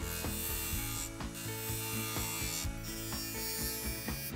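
A skew chisel cuts a V into a spinning wooden spindle on a lathe, giving a close, steady buzzing rasp with rhythmic pulses as the tool rides the turning wood.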